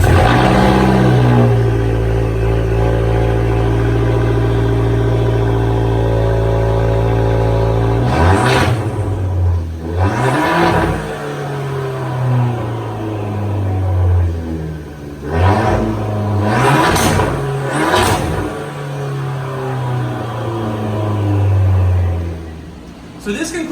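A Fiat 500 Abarth with a 1.4-liter turbocharged engine and an ATP high-flow catted downpipe idles steadily, then revs several times in sharp rising-and-falling pulls. The engine is close and loud, with talk partly over it.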